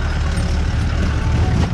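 An off-road vehicle's engine rumbling steadily on a rough forest track near Masinagudi, a loud, close, continuous drone with the rattle of the ride over it.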